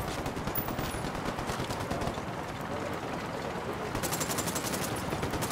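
Rapid automatic gunfire in the video game Ghost Recon Wildlands during a fight against cartel reinforcements, sustained dense bursts of shots crackling throughout, with a voice faintly under the shooting.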